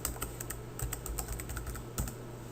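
Keys on a computer keyboard are tapped in a quick, uneven run of light clicks, close and fairly quiet against a faint steady hum, with no one speaking.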